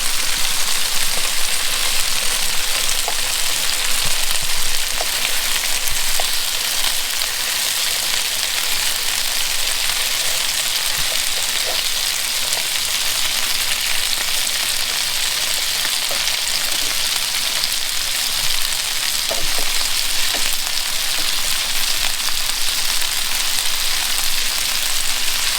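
Spareribs frying on medium-high heat in a pan under a splatter screen, a dense continuous sizzle with scattered pops and crackles, steady and fairly loud throughout, no talk.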